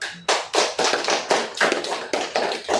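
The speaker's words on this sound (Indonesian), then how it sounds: "Kita kasih tepuk tangan untuk kelompok." A classroom of students claps for a presenting group, about a dozen sharp, closely spaced bursts in a quick, fairly regular rhythm, close and clear with no talking.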